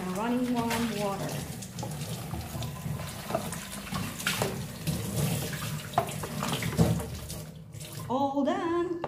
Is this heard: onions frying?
no